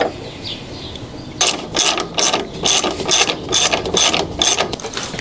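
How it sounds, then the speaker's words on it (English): Rapid bursts of ratchet clicking from a 13mm socket wrench with an extension loosening a small rear bolt on a 2024 Mustang during a lowering-spring install, starting after a quiet second and repeating in even strokes, close and clear. "For this small bolt in the back, I use a 13mm socket wrench with an extension on it"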